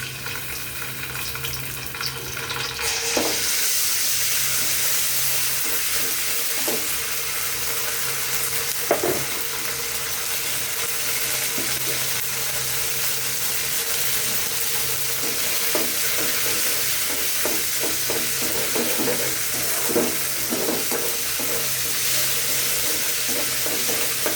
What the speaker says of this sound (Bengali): তেল দিয়ে একটু আদা রসুনটা ভুনে নিব